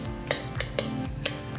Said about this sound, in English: I'm just gonna start mixing.